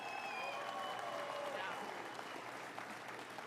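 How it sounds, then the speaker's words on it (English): Audience applause for firefighters who fought forest fires in Alberta, a broad, sustained clatter of many hands filling the room from start to finish, with crowd noise mixed in. "I'd ask all of us to stand here and applaud our heroes of Alberta."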